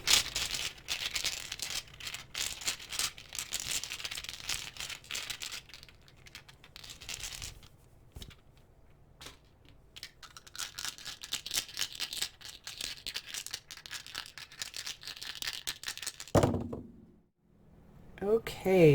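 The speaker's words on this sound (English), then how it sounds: "since these are kind of loud when I shuffle them" Tarot dice are shuffled in a hand close up, giving bursts of dense rattling and clattering that stop for a quiet pause, start again, and end with a sharp knock before falling silent.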